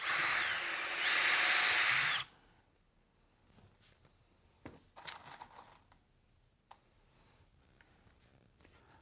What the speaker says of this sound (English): I'm going to go ahead and put some screws in from the bottom side here to make sure that this is strong.